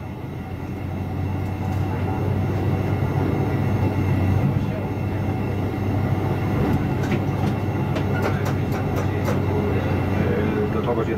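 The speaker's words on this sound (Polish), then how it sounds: "pociąg będzie cofał i najeżdżał i znowu się zatrzyma pod wiaduktem" A train on railway line 380 between Przewóz and Jankowa Żagańska reverses and stops under a viaduct, a loud steady rumble throughout with light clicking of wheels toward the end.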